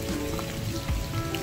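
Rain falls steadily outdoors, a dense continuous patter on surfaces with a constant hiss throughout, close and fairly loud, with no voices.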